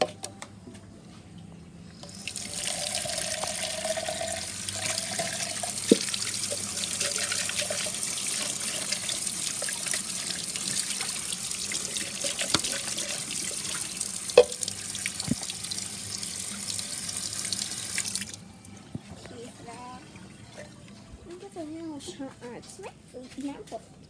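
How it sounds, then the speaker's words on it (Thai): Rushing water at a waterfall, a loud continuous hiss heard up close for most of the stretch, with people talking over it, before the flow drops away near the end. "ที่น้ำตก"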